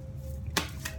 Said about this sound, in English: as I'm just shuffling the cards